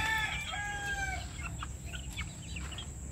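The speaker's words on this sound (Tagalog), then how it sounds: "Mga manok ni Aling Nimay" Chickens cluck and a rooster crows close by, with a steady low rumble of background noise throughout.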